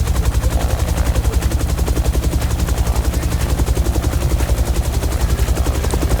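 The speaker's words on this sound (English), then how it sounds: "I really enjoy flying helicopters in X-Plane." A helicopter in the X-Plane 12 flight simulator game makes a loud, steady rotor chop that pulses rapidly and evenly throughout, with a dense engine rumble underneath.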